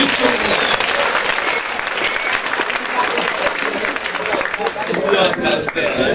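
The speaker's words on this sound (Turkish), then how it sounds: "yazarlarımıza en büyük alkışı" A theatre audience at a peace-themed stage show applauds the writers, dense sustained clapping and cheering filling the hall at full volume throughout.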